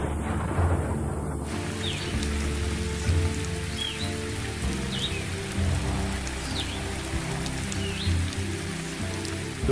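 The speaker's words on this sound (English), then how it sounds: "the big thunderstorms, bringing the season's first heavy downpours," Steady heavy downpour of the season's first storm rain after long days of heat and dust, drumming continuously with a low rumbling bed underneath and faint bird calls chirping through the rain.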